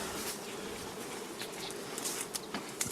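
Honeybees buzz around an apiary during honey extraction, a faint, continuous insect drone with a few individual bees passing close in brief louder swells and no voices.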